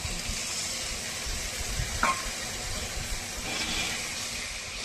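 Kashmiri chili powder toasting in a pan with a little water as it is stirred, giving a steady close sizzle and hiss with soft scraping strokes and one brief sharper scrape midway, no talking.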